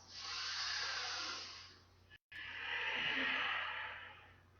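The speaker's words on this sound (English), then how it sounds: "I'm trying to breathe extra super loud today" Loud, forceful exhales and inhales from a person during an at-home workout, two long breathy whooshes close to the mic separated by a brief silence, with no talking.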